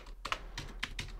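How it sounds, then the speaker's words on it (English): Brisk typing on a computer keyboard, with irregular clusters of close, crisp key clicks over a low steady hum. "I'm typing that up."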